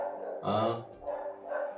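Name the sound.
dogs barking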